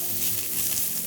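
Onion frying in a pan gives a steady, close sizzle with a soft crackle running evenly throughout, and no voices.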